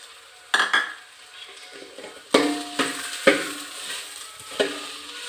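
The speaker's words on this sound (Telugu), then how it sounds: "అది పచ్చివాసన పోయే వరకు కలుపుదామండి." Masala frying with ginger in a pan is stirred with a spoon, giving several distinct scraping clinks against the metal at irregular intervals over a constant low sizzle.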